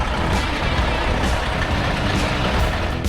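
A Kenworth K100 cabover truck rumbles steadily at close range, a dense, loud engine drone with a broad roar and no talking over it.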